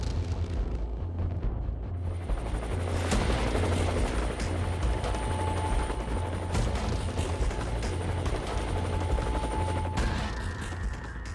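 HAL Rudra military helicopter, an armed Indian army aircraft, its rotor and turbine roaring loudly and steadily up close with a pulsing low thump throughout.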